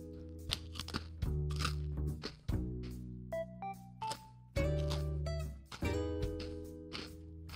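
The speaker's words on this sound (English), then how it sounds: "Do you hear how crunchy these fucking things are?" Hard ginger snap cookies crunched up close: loud, sharp, irregular bites and chewing crunches in rapid succession, with short pauses between them.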